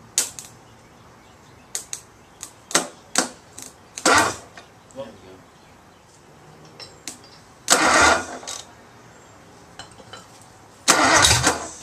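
A 1956 Ford 312 Y-block V8 engine gets cranked, with sporadic sharp bursts and sputters of attempted starting, several short catches and a couple of longer roars, with people talking nearby.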